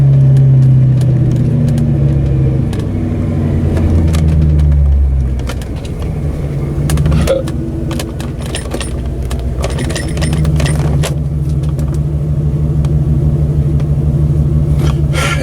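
A Ford Mustang with a manual clutch pulls away gently, its engine rumbling low and steady up close, with a brief rise and dip in revs before settling into a continuous drone.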